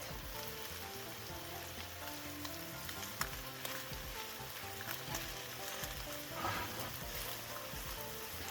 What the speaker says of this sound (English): we're gonna flip the fish to give it a nice even chance to cook on both sides.